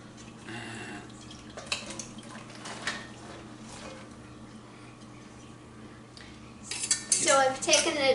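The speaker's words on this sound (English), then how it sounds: "Let's put the potatoes in." Sliced potatoes for scalloped potatoes with goat's cheese and herbs go into a pan with scattered clinks and scrapes, then a louder burst of clattering and wet sizzling near the end.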